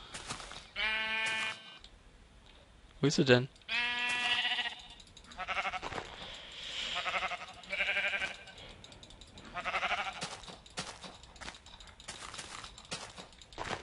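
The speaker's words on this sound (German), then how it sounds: "Da sind noch Schafe." Blocky sheep in a Minecraft world bleat several times in short harmonic bursts, loud and close, with a German-speaking player talking briefly between the calls.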